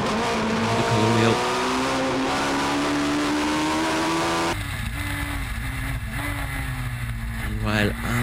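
Race cars at the Kirkistown circuit in Northern Ireland roar past at close range with rising and falling engine notes, while a commentator talks over the noise.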